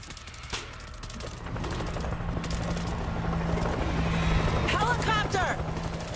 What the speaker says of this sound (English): Helicopter's landing across the river.